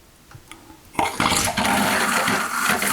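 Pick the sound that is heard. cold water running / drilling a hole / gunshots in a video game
cold water running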